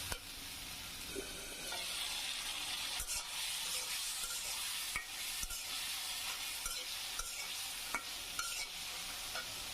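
Potato pieces sauté in a pan for a shrimp and okra dish, giving a steady close sizzle punctuated by sharp scraping strokes of a stirring spoon, with no voices.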